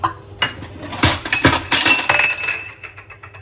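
Metal cooking pots and vessels clatter and clink as they are handled in a home kitchen, a burst of sharp, close knocks and rattles coming in quick irregular clusters with no talking.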